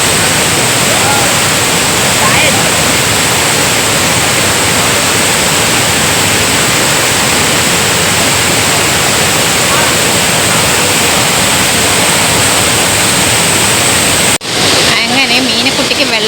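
Meenmutty waterfall roars in a loud, dense, unbroken rush of falling water, steady from start to finish, with a brief dip near the end.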